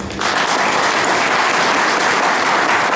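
Applause for municipal council members at a Turkish municipal assembly meeting, a loud, dense, continuous clapping from a full room that starts abruptly and holds steady.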